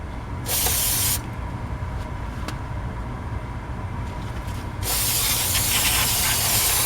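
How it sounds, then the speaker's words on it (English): An aerosol cleaner sprays onto a 1989 Ford Ranger rear drum brake in two bursts, a short hiss followed by a longer steady one, close up against a low background rumble. "So I'm going to spray this down"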